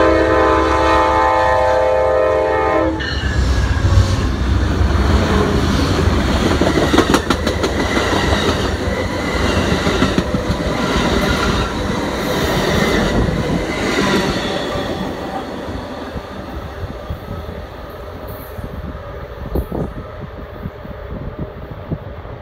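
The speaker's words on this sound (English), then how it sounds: "Amtrak's Capital Limited, with some interesting rolling stock." Amtrak's Capitol Limited passenger train, westbound with two new Siemens Charger locomotives, sounds a long horn blast and then roars past with steady rumbling and clickety-clack of wheels, loud and close throughout.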